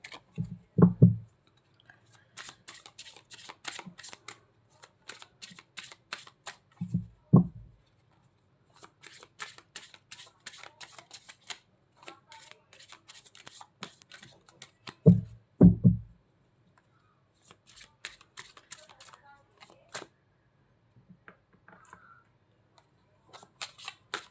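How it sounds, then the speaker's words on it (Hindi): Tarot cards are shuffled by hand in a quiet room: repeated bursts of crisp riffling and slapping, each ending in a soft thump as the deck is squared, close and alone. "देखिए, मैं कार्ड आपके लिए शफल कर रही हूँ, आप ब्रेक कर लें"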